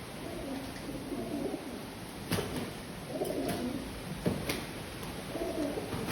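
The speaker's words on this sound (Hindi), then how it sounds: "ये देखें कबूतर आपस में लड़ रहे हैं।" Several pigeons coo softly in a low, murmuring rhythm amid steady rain-soaked ambience, with a few sharp flutters or scuffles as the birds squabble nearby.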